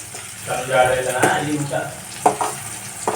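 Cumin, mustard seeds, onion and tomato fry in oil for an eggplant curry, a moderate sizzle with sharp stirring knocks against the pan, with a voice talking over it.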